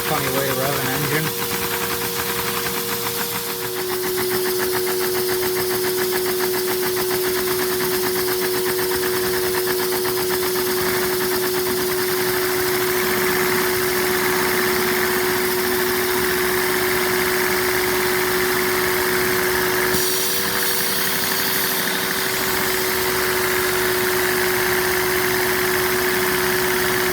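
A LEGO V10 vacuum engine runs steadily with a constant mechanical whir, a steady tone and a fast clatter that is loud and close throughout.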